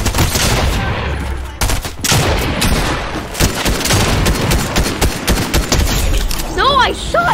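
Loud, rapid gunfire from a shooting video game: dense bursts of shots and booms fill the whole stretch, with excited voices talking over them and a brief rising tone near the end.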